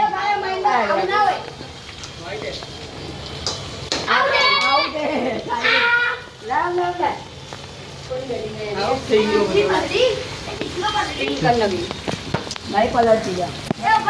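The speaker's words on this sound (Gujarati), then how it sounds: "વરસાદ થઈ ગયો ને" Steady rain patters in the background during an outdoor cricket game while children and adults talk and call out nearby.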